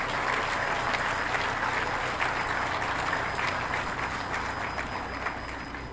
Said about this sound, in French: je vous prierai une fois de plus d'applaudir pour le professeur Joseph Orona, de regretter mémoire.